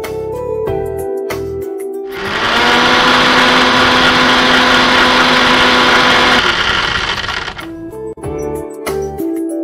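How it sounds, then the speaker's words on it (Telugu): A mixer grinder whirs loudly as it blends ragi with jaggery, almonds, cashews and water, running steadily for about four seconds before cutting off, with kitchen clatter and background music on either side. "ఇది ఇప్పుడు మనం మిక్సీ పట్టేస్తాం."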